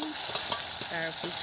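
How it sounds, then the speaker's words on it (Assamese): Taro leaf curry ingredients fry in a pan, giving a loud, continuous sizzle with faint stirring scrapes, alone and close. "এতিয়া ৰঙাকৈ ভাজিম"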